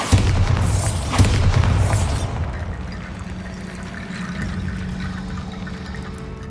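A Bombarda blasting spell explodes in Hogwarts Legacy, a loud, rumbling boom in the first two seconds that quickly fades into a quiet, hollow ambient hum.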